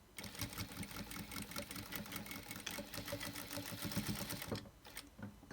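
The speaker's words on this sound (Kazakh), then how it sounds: "Артқа қарай тігіс жүргіземіз." A sewing machine runs steady, rapid stitches backward through patchwork quilt fabric, its close mechanical chatter continuous for several seconds before briefly pausing near the end.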